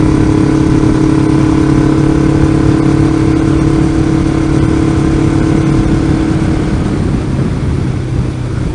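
A Kawasaki Ninja 500R motorcycle engine runs steadily close by, a loud continuous mechanical drone with a slight rise and fall in pitch, easing off near the end, with no voices.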